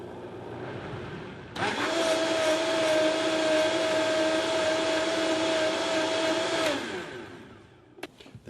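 A blender whirs steadily for about five seconds while pureeing Irish beer cheese soup, a loud motor drone with a constant whine that starts abruptly and cuts off, followed by a few clunks.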